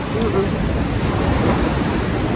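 Steady, loud wind roaring continuously with a broad rushing noise, like gusts buffeting outdoors during rainy weather, with no voices.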